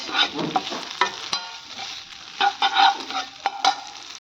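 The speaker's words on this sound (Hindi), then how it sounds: "इधर सब्जी गर्म कर रही हूँ मैं, इसके बनेंगे सैंडविच" Leftover vegetable curry is heated in a pan for sandwiches, heard as a quiet sizzle under irregular stirring scrapes and taps of a spoon, close and uneven in rhythm.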